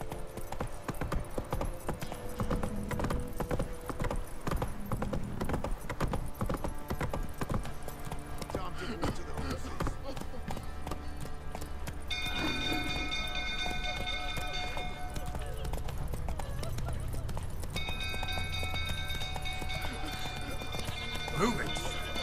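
A horse gallops in The Witcher 3: Wild Hunt, steady rhythmic hoofbeats that run without break from start to end. A voice talks over it, and game music swells in partway through.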